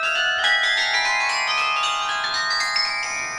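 A grand carillon of 60 bells, ranging from a 16-pound treble to a bass bell of nearly 12 tons, rings out in a sustained shimmering wash of overlapping bell tones, steady and fairly loud with no voices.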